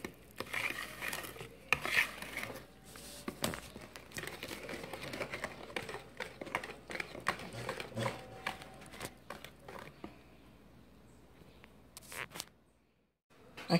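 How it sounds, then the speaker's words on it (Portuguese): A spoon stirs chocolate cake batter around a bowl, giving soft, uneven scraping and knocking strokes at close range. Brief clatters break in now and then before the sound fades near the end. "Aqui mexemos a massa até ficar lisinha"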